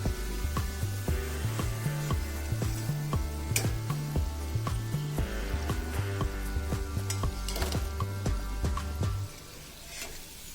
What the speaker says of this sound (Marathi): अशीच आपण दुसरी तळून घेणार आहोत